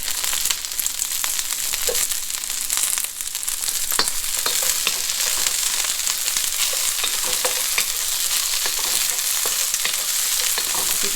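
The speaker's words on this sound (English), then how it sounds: "So this is all stir fried." Vegetables for chow fun sizzle and crackle steadily in a hot wok, a continuous loud frying hiss broken by the clicks and scrapes of stirring.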